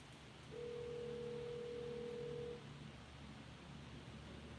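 Outgoing phone call on speakerphone, with a steady ringback tone sounding for about two seconds over faint room hiss before it cuts off.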